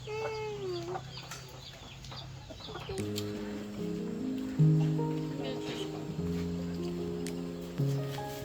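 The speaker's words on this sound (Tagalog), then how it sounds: "You get the chicken. Catch him." Chickens cluck and squawk nearby in short bursts, mixed with people talking and other background farmyard sounds.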